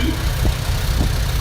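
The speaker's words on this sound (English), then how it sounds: "We got a Minneapolis Moline. That's an M670." A 1966 Minneapolis Moline M670 antique tractor runs at a parade, its engine a continuous, close, low rumble with a couple of heavier thumps amid the steady drone.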